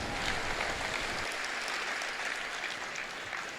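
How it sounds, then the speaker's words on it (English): An audience gives a round of applause for Scott at a motivational mindset speech, a full, even roar of clapping that continues steadily and fades only slightly toward the end. "Give Scott a round of applause, if you please."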